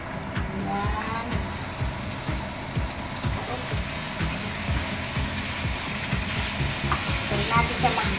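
Ground meat sizzles and fries loudly in a pan as it browns for a simple pasta sauce. The crackling is steady and continuous, with frequent stirring scrapes throughout.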